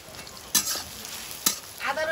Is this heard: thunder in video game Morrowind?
no